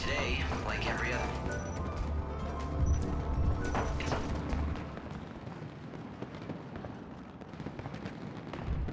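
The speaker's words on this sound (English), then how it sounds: "Those fireworks signal to the city that a performance is about to begin." Crackling fireworks in the Lightning Returns video game burst over a city before a performance, a dense continuous spray of pops and crackles running steadily for several seconds at moderate loudness.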